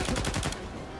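A powerful gun in Uncharted 4 fires a rapid string of loud, close shots in the first half-second, followed by a brief ringing tail.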